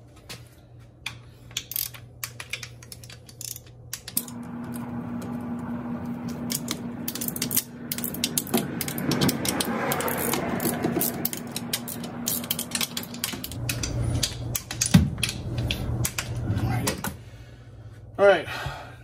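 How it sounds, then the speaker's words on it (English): Wrench work on the clutch case bolts of a 2011-2019 Kawasaki ZX10R: light metallic ratcheting and clicking mechanism sounds, close up, with a steady low hum underneath and a few sharper clinks toward the end. "now we're gonna torque the case"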